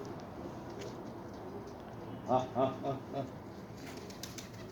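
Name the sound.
pigeons cooing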